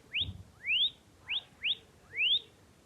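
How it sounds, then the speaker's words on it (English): Skullcandy Dime 2 earbuds sound their find-device alert, five loud, bright rising chirps in quick succession, each short and whistle-like, heard close with no talk. "it's a loud chirping sound produced by the tiny drivers"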